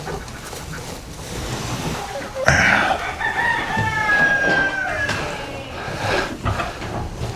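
A rooster on a farm lets out a single long crow that stands out over a noisy outdoor background of rustling and other fowl, close and fairly loud, with scattered clucks and knocks after it.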